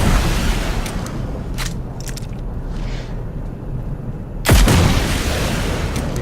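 Gunfire in PUBG Mobile aimed at a large tyrant creature: a few scattered shots over a rumbling game background, then one loud booming blast partway through that leaves a heavier roar behind it.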